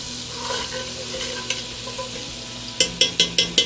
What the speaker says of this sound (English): I'm going to put about a tablespoon of oil in there and a tablespoon of butter.